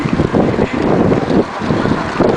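Strong wind buffets the microphone in loud, gusty bursts, with a rushing roar and the sense of moving over water.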